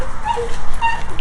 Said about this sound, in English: that's my little doggy